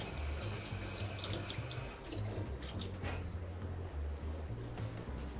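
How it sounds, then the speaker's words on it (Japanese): Running tap water rinses leftover rice bran off heshiko, a bran-fermented fish, in a kitchen sink, a steady close splash and gush that continues without pause and without voices. "じゃあ残ってるぬかをもう少しきれいに洗います。"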